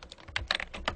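Quick taps on a computer keyboard, about seven distinct keystrokes in a brisk uneven rhythm, close and clear.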